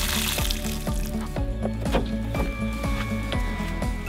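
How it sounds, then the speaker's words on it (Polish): Fresh water running out of the winter drain on a Sprintcar Gran Turismo 4x4 campervan, a steady loud pour and trickle holding throughout, with music or other tones layered over it. "spust wody czystej na zimę"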